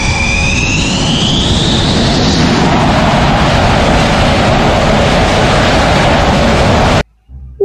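A toy fighter jet plane gives off a loud, steady rushing jet roar for about seven seconds before cutting off abruptly.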